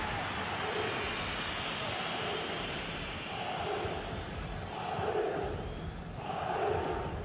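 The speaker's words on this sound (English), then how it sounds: "just listen to the crowd." A large stadium crowd in a football video game roars and chants in a dense, continuous swell, rising and falling in broad waves beneath the commentary.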